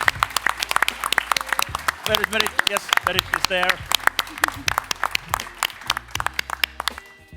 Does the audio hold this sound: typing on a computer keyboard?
no